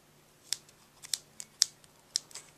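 Scissors snip through the layers of an unmounted rubber stamp, trimming close around the image in several crisp cuts spaced about half a second apart, fairly quiet and alone.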